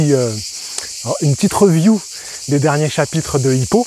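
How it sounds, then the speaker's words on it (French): Cicadas sing steadily in the calanques near Marseille, a constant high, buzzing drone held throughout while someone speaks French close to the microphone over it. "vous entendez les cigales qui chantent comme des folles furieuses."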